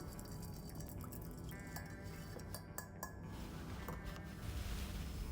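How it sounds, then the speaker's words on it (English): Light stir of a ginger beer and sake highball over ice in a glass, soft clinks and rattles of ice and a bar spoon against glass, close and quiet, with fizz underneath. "we want to just give it a light stir"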